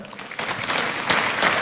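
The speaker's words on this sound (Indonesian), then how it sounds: "Kasih tepuk tangan untuk Tuhan." A church congregation claps together, a brief burst of dense, sustained applause from a large indoor crowd.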